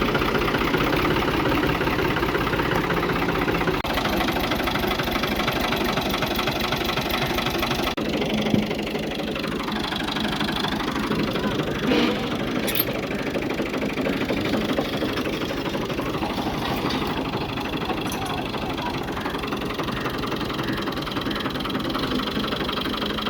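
A tractor engine runs steadily throughout, a close, loud mechanical chug with a knocking idle rhythm and no voices over it.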